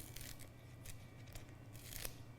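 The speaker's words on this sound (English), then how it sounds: "So with my scissors, all I'm going to do" Kitchen scissors make a few crisp snips through vegetable stalks, the top of a butternut squash used as a risotto garnish, as quick separate cuts over low background hum.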